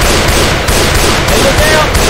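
Loud, continuous gunfire in Left 4 Dead 2, a dense rapid stream of shots filling the moment with little pause.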